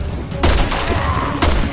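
Gunshots in Resident Evil 6 online survival gameplay: two sharp, loud reports about a second apart, with game ambience between them.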